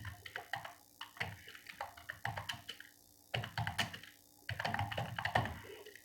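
Rapid keystrokes on a computer keyboard while C code is being written, a close, steady patter of taps in bursts with short pauses between them, no voices.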